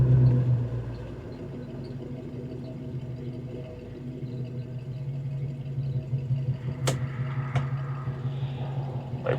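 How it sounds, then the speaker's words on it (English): A 1968 Ford Torino's exhaust drones as it accelerates on a test drive, a low, steady rumble that grows rougher and louder toward the end. "the exhaust on this car sounds really good"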